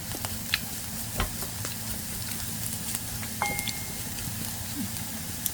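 Pointed gourd (potol) peels fry in a pan with a soft, steady sizzle and faint crackle, plus a few light clinks of a utensil against the pan, with no talking.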